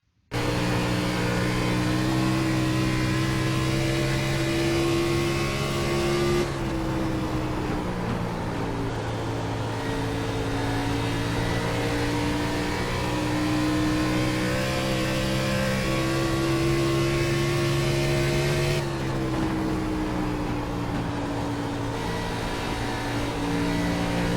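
Onboard race car engine in iRacing on a lap at Dover, a loud continuous high-revving drone with steady harmonic whine, dipping briefly as the revs shift twice before climbing back, no voices.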